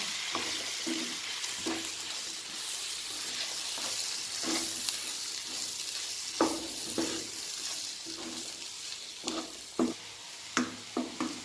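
Veg keema frying as garam masala is stirred in, a steady hiss of sizzling with a run of quick spoon scrapes and taps near the end, no voices.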